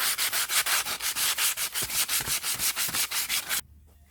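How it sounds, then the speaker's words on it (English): Sandpaper rubs briskly back and forth on rusty brass fire-screen rods, making about seventeen even, rhythmic rasping strokes, close and loud, then stopping abruptly. "we just want to clean these rods up just with a bit of sandpaper"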